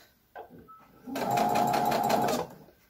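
A sewing machine stitches a baby bodysuit in a quick steady whir lasting over a second, preceded by a few faint handling clicks.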